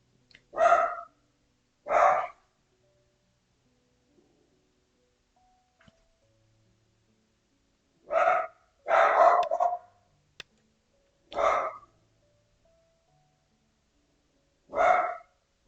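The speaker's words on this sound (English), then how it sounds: "Quite the guard dog." An agitated guard dog barks six times in sharp, loud bursts spread irregularly over about fifteen seconds, close by with quiet pauses between barks and no talking.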